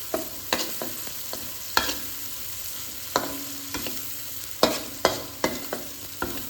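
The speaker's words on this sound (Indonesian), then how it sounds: "sekarang kita campur dengan tahu dan baksonya" Watercress with tofu and meatballs, seasoned with hot chili, is stirred in a frying pan: irregular scraping strokes of a utensil, some sharp and close, sound over a low, steady sizzle.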